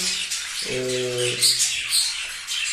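Pet budgerigars kept indoors chirp and twitter in a busy, overlapping chatter, with a brief steady whistled note early on, fairly close and continuous.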